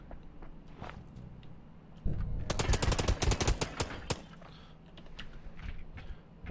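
A Tommy gun in the game Blacktrace fires a loud, rapid burst of closely spaced shots lasting about two seconds, standing out over quieter background game sounds.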